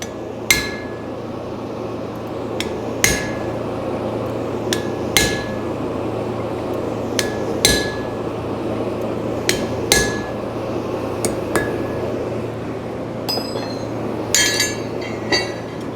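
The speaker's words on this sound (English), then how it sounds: "I'm going to use a slightly modified slot punch that has a flat end and a round end on one side" A blacksmith hammers a slot punch into a horseshoe to shape a horse-head hoof pick. Sharp metallic strikes land singly and in pairs over a low steady hum, closer together toward the end.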